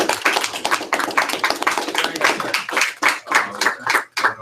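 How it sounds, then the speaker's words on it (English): An audience at a general session breaks into applause, a dense burst of many hands clapping with an uneven rhythm for a few seconds. "Round of applause."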